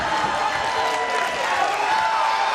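A large wrestling crowd in the Impact Zone arena roars and cheers in a continuous dense wash of noise with no breaks.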